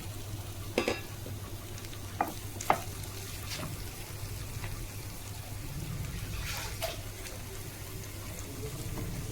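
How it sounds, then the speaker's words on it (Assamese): Pork sizzles in a pan with browned onions, ginger and garlic, a steady close frying hiss broken by sharp spatula scrapes and clinks as it is stirred, with no speech. "এই আদা নহৰুখিনি দি অলপ ভাজি"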